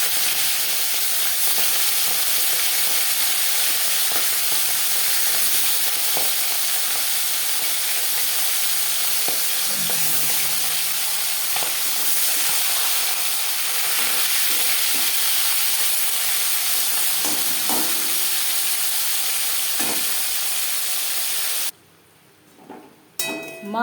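Marinated pomfret fish frying in hot refined oil in a pan, a loud continuous sizzle and crackle with occasional spatula scrapes, running steadily until it drops away abruptly near the end.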